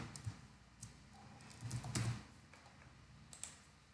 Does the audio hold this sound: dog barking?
no